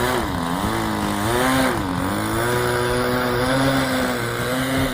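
A Great Planes Slow Poke 40 model airplane engine, with engine trouble, runs steadily and loudly on a windy day, its buzzing pitch wavering up and down as the throttle shifts, close by throughout.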